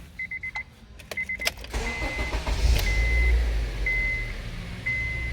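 A 2007 Honda CR-V with a 2.4L engine that loses power, cuts out and starts hard, cranking briefly after a few dash chimes and beeps, then catching and settling into a steady idle close by, with periodic chime tones over it.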